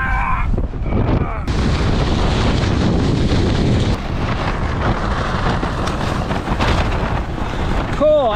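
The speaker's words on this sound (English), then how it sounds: "This is when you know it's really, really bloody windy." Strong wind of about 50 knots roars and buffets the microphone continuously at a kitesurfing beach, a loud broadband rush with gusts, a brief burst of voice near the start.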